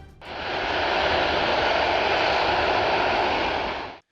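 A Mikoyan MiG-25 supersonic reconnaissance jet roars past as a loud, steady broadband rush that holds for about four seconds and then cuts off abruptly, with no voices.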